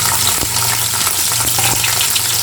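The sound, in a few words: ginger frying in hot oil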